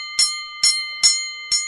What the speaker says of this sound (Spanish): vamos al primer round con nuestra campana llamadora